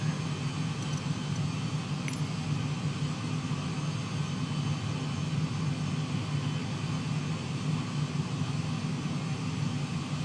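An airliner cruising between Victoria and Seattle fills the cabin with a constant, moderately loud engine and air roar, steady throughout with a couple of faint clicks near the start.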